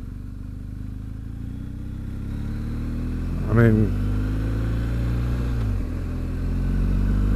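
A motorcycle with a boxer engine rides along, its low, torquey drone steady under a rider's voice, with one brief rev rising and falling midway.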